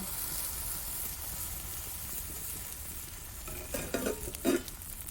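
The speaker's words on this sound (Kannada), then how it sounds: "ಸ್ವಲ್ಪ ಎಣ್ಣೆ ಹಚ್ಚಿ ದೋಸೆ ಮಾಡಿದರೆ ಆಯಿತು" Dosa batter made from leftover rice cooking on a lightly oiled pan, a soft continuous sizzle and hiss that swells with a few louder bursts near the end; no speech.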